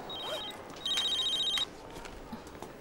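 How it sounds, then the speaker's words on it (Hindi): A telephone rings in a short, repeated electronic ring, one brief burst followed by a longer one, clear and fairly close with no talk over it. "फोन बज रहा है।"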